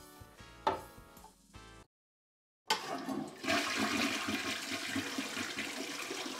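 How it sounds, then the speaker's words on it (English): A household toilet flushes close by: a few short clunks and a brief silence, then a sudden rushing gush of water that keeps swirling steadily to the end. "Let's go look at the toilet flush."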